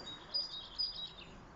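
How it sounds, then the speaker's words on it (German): A blackbird perched high in a tree gives a few short, thin chirps, faint and distant against a quiet outdoor background. "Du hast gerade gezwitschert, Amsel."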